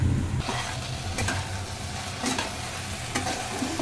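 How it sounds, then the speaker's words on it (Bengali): Potato and okra fry in a pan, a continuous close sizzle broken by several sharp scraping stirs of a spatula against the metal, with no speech. "আমার কিন্তু আলু ভেন্ডিটা একটু ভাজা ভাজা হয়ে গেছে।"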